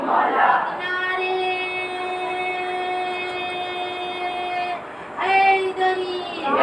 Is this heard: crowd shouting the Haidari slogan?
yes